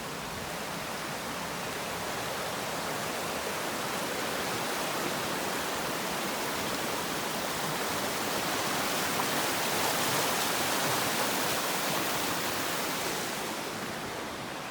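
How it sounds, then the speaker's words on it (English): A river flows beside a campground on a mountain backpacking route. It makes a steady, broadband rushing wash with no talk, holding an even level throughout. "It's got a really pretty river here"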